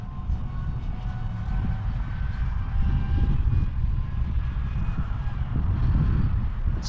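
Diatone Ripper R690 RC flying wing at half throttle, a steady distant motor and propeller drone with faint wind noise, continuous throughout with no voices.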